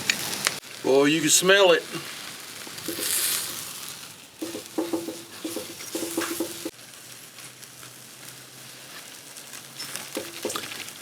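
Meat seared directly on hot BBQ coals gives a soft hissing sizzle with faint crackles, running low beneath occasional speech from a man and fading in and out through the clip.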